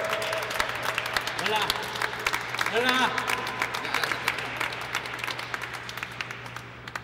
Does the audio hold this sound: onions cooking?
no